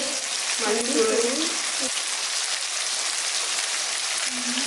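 Chicken pieces dropped into a hot pan for Tamil-style chicken uppu kari, giving a loud bright sizzle that holds steady with a brief stir and clatter near the start.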